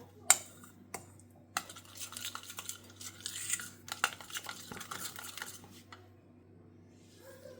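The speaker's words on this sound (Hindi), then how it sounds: "अच्छे से मिक्स करेंगे सब चीज़ों को।" A utensil stirs chicken steam roast dressed with lemon, giving soft scraping and clinking sounds against a pot. There are a few sharper knocks among them, and the whole thing is fairly quiet and close.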